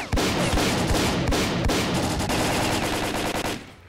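A shotgun fires again and again in STALKER: Call of Pripyat, the loud blasts overlapping with rapid gunfire in a dense, continuous barrage with no talk.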